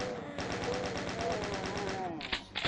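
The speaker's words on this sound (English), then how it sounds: "everything else in this map is literally chain gunners" Rapid chaingunner machine-gun fire from the video game Doom 2 hammers in a steady, loud burst for about two seconds, then breaks off into a couple of sharper blasts and game noise.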